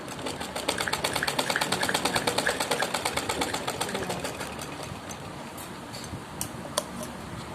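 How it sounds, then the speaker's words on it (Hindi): A sewing machine running a straight stitch on a suit, a fast even ticking chatter of the needle that holds steady for several seconds, then slows and stops with a few separate clicks near the end. "अब हम इसको सीधी सिलाई लगा लेंगे।"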